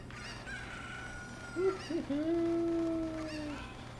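A chicken in the video game The Legend of Zelda: Ocarina of Time gives a couple of short clucks and then a drawn-out crowing squawk, close and clear over a steady low game hum.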